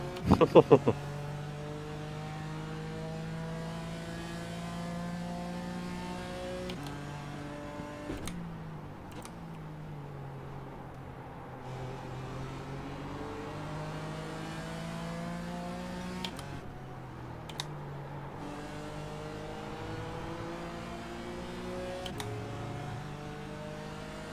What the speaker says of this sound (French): le moteur est en train d'exploser, Cyril.